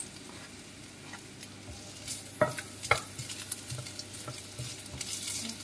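Onions sauté in a pan for a chicken kinamatisan dish with a steady soft sizzle, while a utensil scrapes and clicks against the pan now and then, growing busier toward the end.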